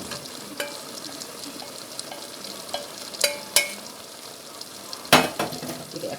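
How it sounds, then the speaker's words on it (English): Cubed pumpkin is stirred in a bubbling pot with tomatoes and garlic, a soft watery rumble broken by several sharp, close utensil clinks and scrapes. "Give it a quick stir."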